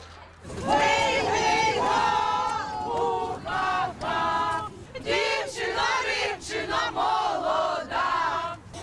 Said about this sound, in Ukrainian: біля посольства дівчата поспівали весільних пісень та вигукували, що до Путіна вони не хочуть